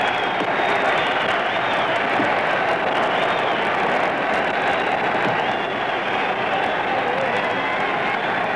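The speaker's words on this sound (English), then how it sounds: "The crowd goes wild as George tries to press his advantage." A boxing crowd at a Jack Dempsey heavyweight fight roars as Dempsey is hurt. The dense, unbroken wall of cheering and clapping stays loud and steady throughout.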